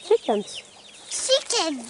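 Chickens clucking on a permaculture homestead, a few short bursts of close, throaty clucks and squawks, with a pause between the groups.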